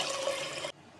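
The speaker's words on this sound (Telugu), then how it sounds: "ఆ నీళ్ళు దీంట్లో పోసేస్తూ" Water pours steadily into a pressure cooker holding rice, a loud close splashing stream that cuts off abruptly after under a second.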